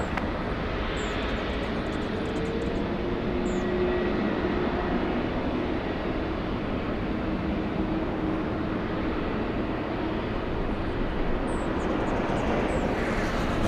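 A Boeing 777 takes off from runway 24 left at LAX, a steady broad jet roar that holds evenly throughout, heard from a distance with no voices.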